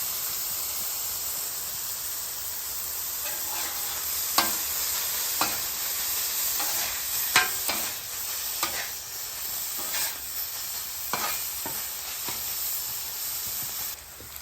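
Ground beef sizzles in rendered beef fat on a flat griddle for a chopped cheese sandwich, a steady close hiss broken by the repeated scrape and clack of a spatula chopping and turning the meat, with no talk.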